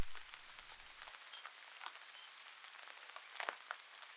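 Raindrops patter at night around a backcountry camp on Isle Royale, a faint, sparse tapping of scattered drops with a couple of thin, high distant calls, with no talking.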